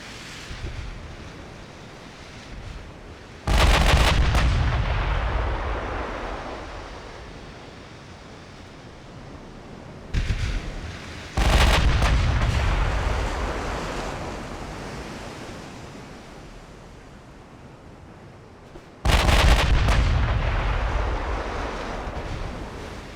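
Naval main guns fire in the Ultimate Admiral Dreadnoughts warship game as three heavy booming blasts, each sharp onset decaying slowly into a long rolling roar over a constant sea and wind bed.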